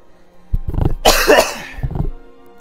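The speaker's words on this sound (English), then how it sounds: "It's just a little cough." A few harsh coughs up close, a short burst then a louder one, with quiet pauses between.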